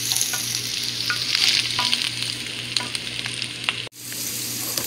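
Chicken gizzards fry in a hot pan, a steady close sizzle broken by stirring scrapes and clinks, with a brief dropout near the end before the frying resumes.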